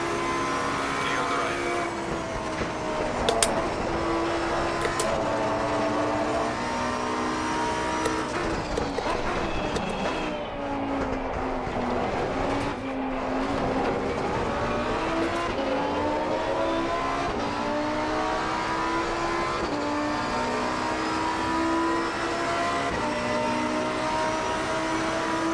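Ford Mustang race car engine in the Assetto Corsa Competizione racing game roaring loud and continuous, rising and falling through gear changes at high speed, with brief tire squeal and a voice talking over it.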